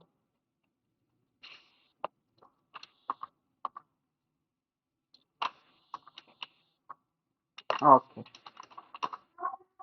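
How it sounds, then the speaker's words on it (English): Typing on a computer keyboard, sparse key taps in short bursts and single presses with pauses between, close and quiet, with a brief spoken word near the end. "I'll type 2 over here."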